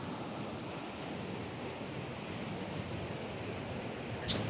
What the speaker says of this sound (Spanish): ahí va haciendo ya burbuja el agua para encañonarse a caer a esto que es